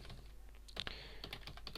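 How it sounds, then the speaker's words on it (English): Quiet, close keystrokes on a computer keyboard tap out a short run of clicks over a low steady hum as a post title is typed in. "I'm going to type in the title here"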